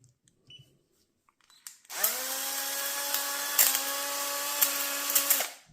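A cordless screwdriver drill is switched on after near silence and runs at a steady idle whine for several seconds, close and fairly loud, with a few small clicks.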